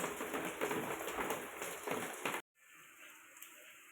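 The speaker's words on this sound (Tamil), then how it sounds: "ஒரு நல்ல பெரிய மழையாகவே நல்லா பெஞ்சுது" Heavy rain falls steadily outdoors, a dense broadband hiss that cuts out abruptly partway through and returns fainter.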